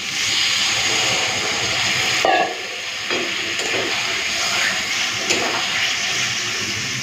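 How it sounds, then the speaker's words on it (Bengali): Water poured into a pan of fried pointed gourd cooked down with spices, a steady rushing hiss that briefly breaks off partway through, then continues softer with faint intermittent splashes. "এখন জল দেব।"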